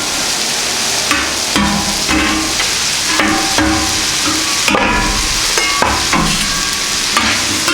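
Metal spatula scraping and pushing potatoes across a Camp Chef FTG600 flat top griddle, with repeated scrapes and clacks over a steady close sizzle of frying breakfast food.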